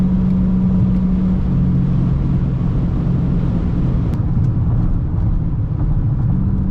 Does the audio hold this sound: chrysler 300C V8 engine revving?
yes